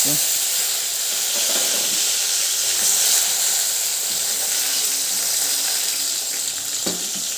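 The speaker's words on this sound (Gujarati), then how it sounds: "રાઈ અને જીરું તતડી જાય" Mustard seeds and cumin fry in hot oil for a Gujarati mixed-vegetable dish, giving a loud, constant hiss close by with a few faint pops near the end.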